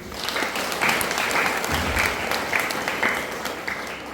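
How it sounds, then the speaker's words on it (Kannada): A gathering at the Shri Mouna Mallikarjuna Math in Mamadapur breaks into a steady round of crowd clapping, moderately loud and continuous for about four seconds. "ಒಂದು ಚಪ್ಪಾಳೆ ಹೊಡ್ರಿ ನೋಡೋಣ."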